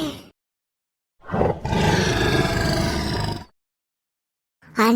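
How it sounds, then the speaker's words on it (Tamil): A lion roaring in a Tamil children's cartoon, one long, loud, full-throated roar lasting about two seconds, set between stretches of silence with a brief burst of sound at each end. "அது போக காட்டுக்குள்ள சிங்கம் சத்தமும் கேக்குது"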